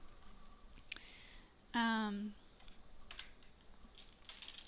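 A computer keyboard being typed on in short, quiet bursts of clicks, with a brief tonal beep midway and faint room noise between keystrokes.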